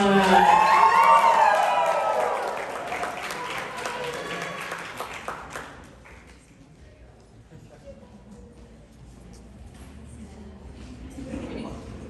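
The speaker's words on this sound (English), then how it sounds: "let's give a big round of applause to our Maid of Honor, Nina" Guests at a Las Vegas wedding cheer and whoop loudly over clapping, then the applause fades into a softer murmur of the crowd.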